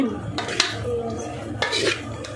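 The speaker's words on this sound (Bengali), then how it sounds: "তো এগুলো সব ঢেলে দিলাম, ঢেলে দিয়ে এটা মাখিয়ে ফেলছি।" Ingredients being mixed together in a bowl for a snack like jhal muri, with clinking utensil strikes against the dish and scraping stirs, fairly close and steady.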